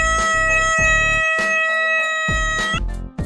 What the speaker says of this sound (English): The first one is tikkun, which is a 3-second sustained note.